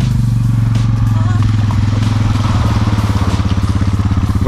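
A Honda 300 four-wheeler ATV engine runs close and loud with a rapid, even thumping pulse and rattly clatter, while voices are faintly mixed in.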